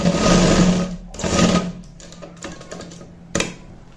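Simple sewing machine stitching a hook and eye onto a blouse, with two loud close bursts of rapid needle chatter followed by quieter clicks and handling taps.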